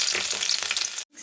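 Garlic frying in hot oil with spluttering mustard seeds gives a steady, close sizzle that cuts out abruptly near the end, then a softer sizzle returns.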